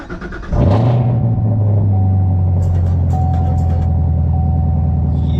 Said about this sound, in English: Had to get you guys that cold start real quick